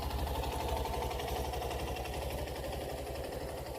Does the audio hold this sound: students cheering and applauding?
no